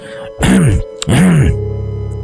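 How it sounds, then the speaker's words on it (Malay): A voice acts out two soft, short throat-clearing 'ahem' sounds in quick succession, close and distinct, like a man's ghostly apparition clearing his throat quietly in a dark spoken horror tale. "Tiba-tiba jelmaan suaminya berdehem halus"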